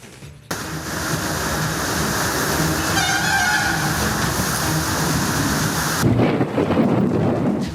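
A steady, loud roar of heavy rain with deep rumbles of thunder underneath, continuous from start to finish.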